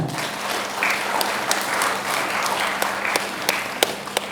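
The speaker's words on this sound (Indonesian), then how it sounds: "Boleh tepuk tangan untuk BPK." A hall audience at a dramatic reading event in West Kalimantan applauds, producing a dense, lively clatter of many hands with a few sharp individual claps standing out near the front, steady for several seconds.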